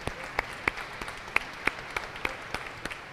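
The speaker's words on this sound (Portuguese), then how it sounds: "Pode dar uma salva de palmas para ela também." Scattered, light applause from a small audience at a formal ceremony in Brazil, a few sharp claps standing out over a soft, thin background.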